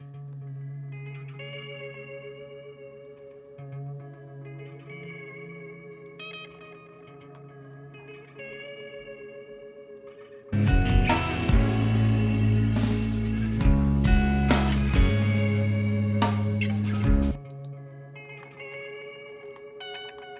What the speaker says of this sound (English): that was hitting a space echo